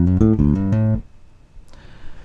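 Electric bass lick over two bars, a short run of plucked notes played close and clear, then cutting off after about a second to near silence with only faint room noise.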